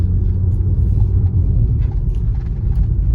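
Steady low rumble of a Ford Explorer EcoBoost engine with its muffler deleted, heard from inside the car at an even cruising drone with no talking.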